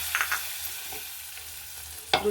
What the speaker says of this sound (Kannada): ಒಗ್ಗರಣೆ ಕೊಡೋಣ